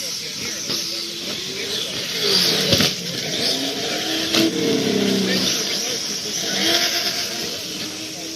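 Electric RC short course trucks race and rev, a whining motor hiss rising and falling across the run with brief louder bursts, while people talk over it.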